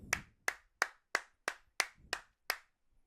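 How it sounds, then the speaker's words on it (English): Eight sharp, evenly spaced claps in a steady rhythm, close and crisp, each ringing briefly before the next, with no talk over them. "Let's give her a clap! Let's clap!"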